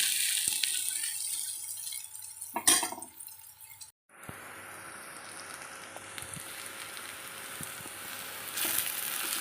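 Onions frying in a pan, cooked down with garlic for a dried-fish thokku: a soft, continuous sizzle, briefly broken by a pause, then resuming steadily with light clinks of glass or metal.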